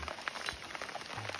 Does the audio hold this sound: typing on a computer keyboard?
no